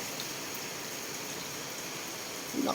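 Steady rain falls in the Philippines as an even, hissing wash of drops throughout, with a brief louder patter at the end.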